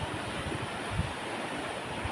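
Strong sea waves roll and wash continuously along the shore, a broad, steady roar with wind noise buffeting the microphone and no voices over it.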